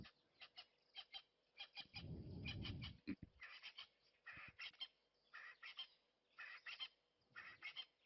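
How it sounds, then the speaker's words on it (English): Repeated bursts of whistling duck calls in short clusters, fairly faint and outdoors, with a brief low rumbling noise near the start. "Can you hear some whistling ducks calling in the background?"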